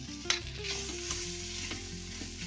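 Rohu fish being sautéed in a spice mix in a pan, a steady close sizzle with bursts of stirring and scraping running throughout, no talking.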